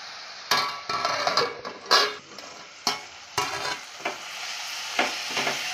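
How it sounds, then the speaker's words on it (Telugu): Fresh coriander leaves are stirred and fried in a pan while making a coriander tomato chutney. A utensil knocks and scrapes against the pan in irregular strokes over a steady sizzle, with no one talking. "కొత్తిమీరని వేసుకొని మరొకసారి మొత్తంగా బాగా కలుపుకోవాలి"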